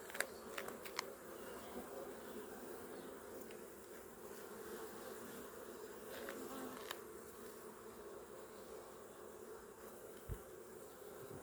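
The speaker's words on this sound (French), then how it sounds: "Je pense des abeilles" Honeybees swarm and buzz steadily around an opened hive at an apiary in late May, a dense, continuous drone close by with a few faint knocks and clicks from the frames and no speech.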